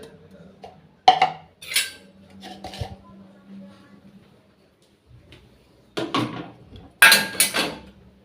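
Dishes being handled in a home kitchen, with scattered clinks and clatters of plates and utensils in separate bursts, loudest near the end, and a faint low hum between them.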